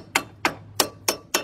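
A hammer knocks a 1/2 inch socket onto a tight bolt with five sharp, evenly spaced metallic raps, close and loud, with no talking.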